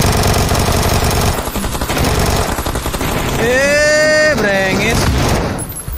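Rapid automatic gunfire in PUBG on the Sanhok map, loud and dense, with a steady rattle of shots running through most of the clip, mixed with game sounds and an excited voice talking over it.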